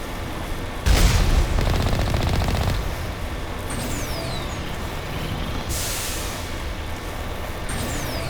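The Mako vehicle's machine gun fires in a rapid, continuous stream during combat in the video game Mass Effect, loud and close, with a booming burst at the start and rumbling engine noise underneath.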